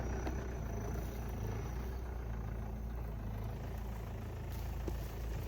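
A Mahindra Scorpio 4WD engine grinds steadily in 4 low while climbing an offroad slope, a continuous low drone with no break in loudness and no voices over it.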